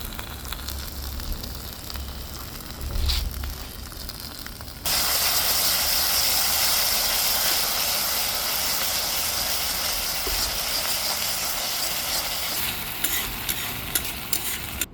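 Onions frying in a pan, then ginger garlic paste added, setting off a loud steady sizzle and hiss that jumps up midway and keeps going, with occasional stirring clicks.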